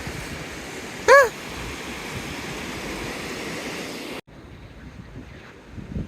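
Surf washing steadily onto an empty beach, a continuous broadband rush with wind noise, a brief tonal chirp near the start and a sudden drop to quieter wash near the end.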